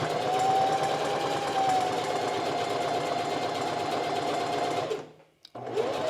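A sewing machine stitches a quilted jacket in a fast, even, continuous whir that runs steadily for several seconds, briefly stops, then starts again.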